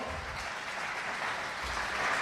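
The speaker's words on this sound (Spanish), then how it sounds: "Denle un aplauso al Señor." A church congregation applauds during a Spanish-language service, with dense, even clapping from many hands that stays steady and moderately loud, with no speech over it.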